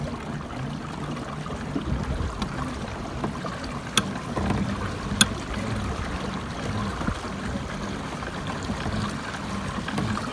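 Water swishes and gurgles steadily along the hull of a moving Feelfree Dorado kayak throwing a big bow wake, a continuous wash with a couple of sharp knocks partway through.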